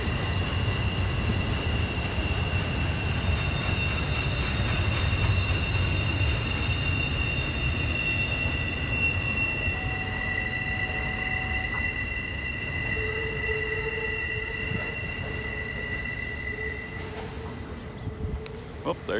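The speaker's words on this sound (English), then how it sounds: "Well, there you go, another train. That one's headed westbound towards Pittsburgh. Double stack intermodal" A westbound double-stack intermodal freight train rolls around Horseshoe Curve in Pennsylvania, a long steady rumble with drawn-out wheel squeals and ringing tones that gradually fade as the train passes.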